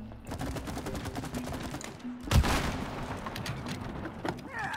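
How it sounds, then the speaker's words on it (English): Rapid gunfire from the video game It Takes Two, a dense run of repeated shots with one louder burst near the middle, set against game music and effects. "I can aim and shoot."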